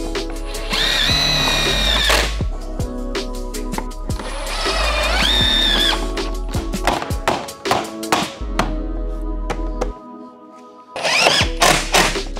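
Cordless drill driving screws through timber trim onto a shed frame, two sustained whirring bursts with rising pitch, then a run of quick taps and clicks, and a final short whir.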